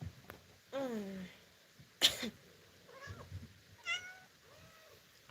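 A big pet cat gives several drawn-out meows, close and fairly soft, with a sharp sneeze-like burst in between.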